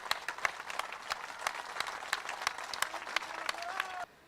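A crowd at an outdoor political rally in India applauds with steady, dense clapping that holds for several seconds and then cuts off abruptly.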